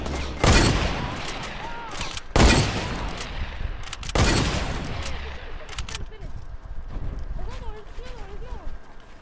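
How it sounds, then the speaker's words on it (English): Sniper rifle shots in a Fortnite squad match: three loud, sharp blasts spaced about two seconds apart, each with a fading tail, while players talk throughout. "I just sniped two of them."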